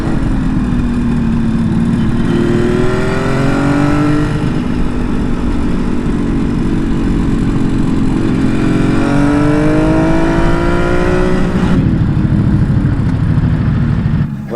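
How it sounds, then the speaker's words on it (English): A 500cc Kawasaki H1 B two-stroke triple motorcycle on a ride, its engine buzzing loudly and continuously, rising and falling in pitch through repeated revs and gear changes, with steady wind rush underneath. "So that was the Kawasaki H1 B 500 triple 2-stroke."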